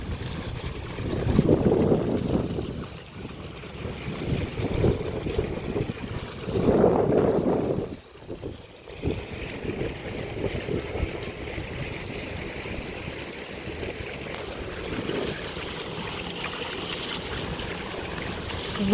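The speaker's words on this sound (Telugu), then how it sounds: "వాటర్ సౌండ్, ఆ ఎయిర్ సౌండ్ అయితే చాలా బాగా అనిపించింది." Water flows steadily outdoors beside an office pool while wind blows across it, a continuous broadband rush that swells briefly a couple of times, with no voices.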